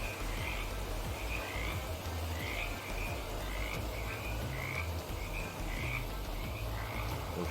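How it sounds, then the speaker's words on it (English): A chorus of frogs croaking around a pond in the game GreedFall, repeated rhythmic croaks roughly every half second over a low ambient hum, moderately distant and steady, no one speaking. "That's a lot of froggies."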